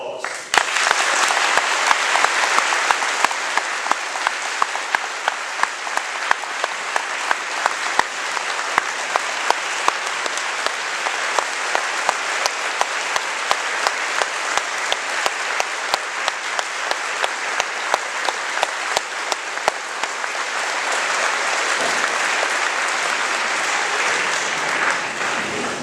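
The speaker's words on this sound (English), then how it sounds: "So I'd like to have a round of applause." An audience gives a long, sustained round of applause for a Gold Star family member, with dense steady clapping and sharp individual claps standing out throughout before it thins slightly near the end.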